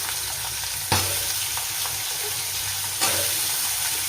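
Sliced ridge gourd fries in an oil-filled pan with a loud, steady close sizzle, broken by two sharp knocks of a utensil against the pan.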